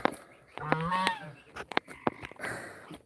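A flock of geese on a mountain farm honks close by in a burst of loud, ragged calls, one drawn-out honk followed by scattered shorter ones and overlapping cackles.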